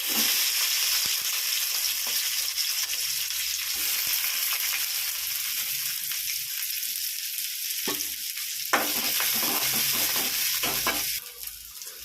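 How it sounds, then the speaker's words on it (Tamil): Onions sizzle in three ladles of hot oil for a spicy kara kuzhambu, a steady close frying hiss broken by a few clattering stirs and scrapes near the end. "மூணு கரண்டி எண்ணெய் ஊற்றிருக்காங்க ம் இந்தப்பா வெங்காயம் போடுறேன்"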